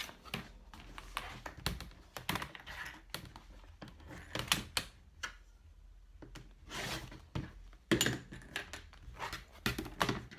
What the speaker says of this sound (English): So I'm just gonna cut this excess off here.